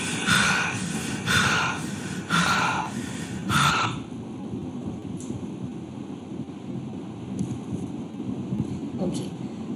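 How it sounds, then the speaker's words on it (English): A person pants in four quick, breathy bursts close to the microphone, each one a sharp rush of air. Quiet background noise follows. "So let's see how the panting sounds."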